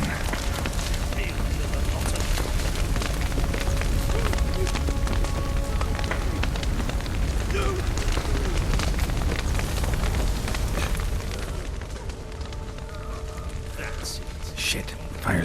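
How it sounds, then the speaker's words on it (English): Fire spreading through a structure in The Witcher 3: Wild Hunt, heard as a loud, continuous crackling and roaring blaze with steady broadband rush and scattered pops, sustained throughout and easing slightly near the end. "Shit, fire's spreading."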